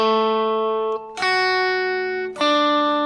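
A single strummed guitar chord rings out, followed by two more sharp strums, each letting notes sustain clearly with no talking.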